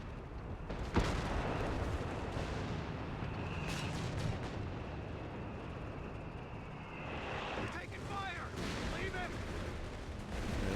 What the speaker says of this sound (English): the first Stuka barrage doesn't really connect